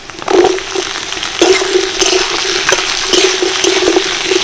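Cut potatoes tipped into hot oil with onion and crushed ginger and garlic, frying with a bright continuous sizzle and periodic scraping knocks of a spatula, close and fairly loud, with no talking.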